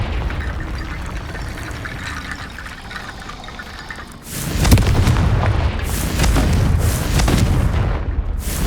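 Confringo blasting spells explode in Hogwarts Legacy: after a stretch of low ambient rumble, a series of loud, booming blasts erupt about a second apart, each bursting sharply and then decaying into crackling debris.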